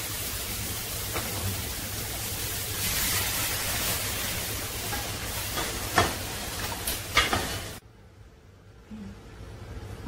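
Lentils hit a pan of fried spice masala for Bihari daal pithi, giving a steady close hiss with scattered utensil clatters, then the sizzle drops away abruptly near the end.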